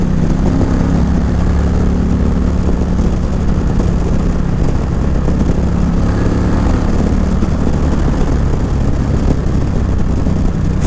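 Stock Indian Challenger motorcycle engine pulling hard under acceleration, a loud, steady, dense roar held close for about eleven seconds with no voices over it.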